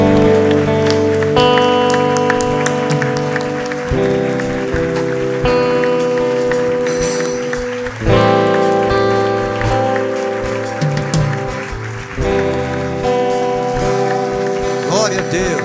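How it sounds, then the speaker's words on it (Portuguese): A church congregation applauds at a Portuguese-language service: steady, dense clapping from many hands over about fifteen seconds, with organ or keyboard chords sustained underneath and brief swells in intensity. "Vamos aplaudir Jesus com alegria agora."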